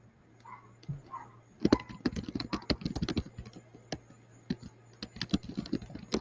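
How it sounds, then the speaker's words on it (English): Loud typing on a computer keyboard, with bursts of fast, hard key clacks close up, broken by short pauses, after a brief quiet start with faint murmuring. "Catherine's thinking about Tony Khan the way that she's typing so loud"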